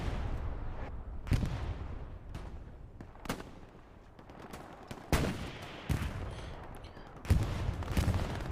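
Artillery and gunfire in Hell Let Loose, a 49v49 World War II shooter match: loud sharp blasts land irregularly, about six in the clip, over a constant rumble of distant shooting and battle noise.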